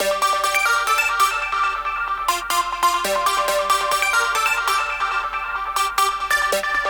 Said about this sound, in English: you're hearing this simple repeatable riff